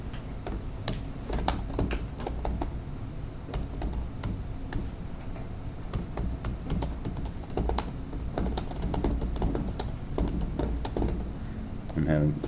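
Computer keyboard typing during a programming lecture, rapid irregular clicks and taps in bursts, fairly faint and close, with a lecturer talking over them.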